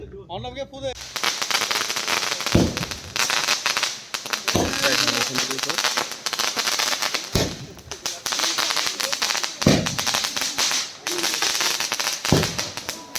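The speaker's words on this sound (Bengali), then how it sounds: "খাওয়া দাওয়ার পর আমরা আবার বাইরে চলে এসেছিলাম বাজি পোড়ানোর জন্য। আর এখানে যে সেল ফাটানো হচ্ছে।" Outdoor firecrackers and fireworks going off after a birthday dinner, a dense crackling fusillade with several loud deep booms spaced a few seconds apart, continuous and fairly near.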